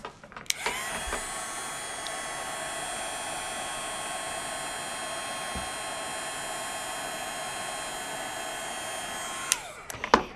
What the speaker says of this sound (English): And now I'm going to emboss that,